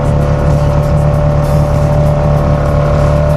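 A Honda Foreman ATV holds about a quarter throttle through deep mud, its engine droning loud and close at a steady pitch the whole time, with no voices.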